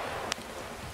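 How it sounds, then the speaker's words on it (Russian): Rain falling in the video game Escape from Tarkov, a steady close hiss of downpour with one brief sharp tick standing out. "Так дождь идет. Все звуки съедает."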